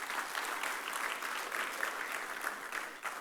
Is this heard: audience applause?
yes